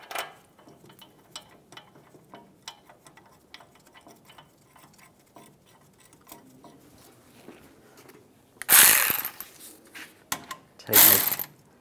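A hand ratchet clicks in quick, steady ticks while tightening the brake caliper bracket bolts on a Chevy Silverado 1500, close up, with a couple of louder metallic clanks near the end.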